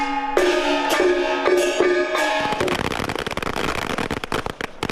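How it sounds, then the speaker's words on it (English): Firecrackers set off at a religious festival procession on Taiwan's North Coast: a few sharp bangs with ringing tones give way to a dense, rapid crackling barrage of pops, loud and close. "Firecrackers portend peace and raise the curtain on a big religious festival on the North Coast"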